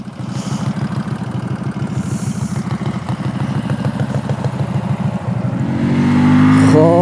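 Pulsar RS200 and Keeway V302C motorcycles in a drag race, engines pulsing in a loud rapid idle before one revs up sharply at the end.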